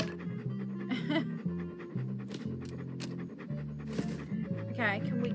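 A dog in the Monkey Island 2 video game pants in quick, steady breaths throughout, alongside game music and voiced talk.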